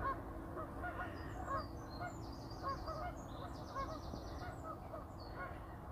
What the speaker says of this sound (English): I hear a lot of geese.